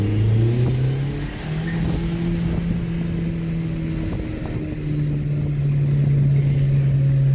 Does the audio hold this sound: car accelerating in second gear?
yes